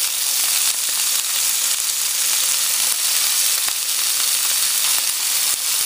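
Stuffed meat rolls of asparagus and pepper sizzle and fry in hot oil, a steady, dense, close crackling hiss that runs unbroken throughout with no voices.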